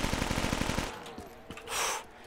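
A rapid burst of automatic gunfire from a newly picked-up weapon in Black Ops 3 Zombies, a quick rattling volley that cuts off, followed by a couple of scattered in-game clanks and a short whooshing effect.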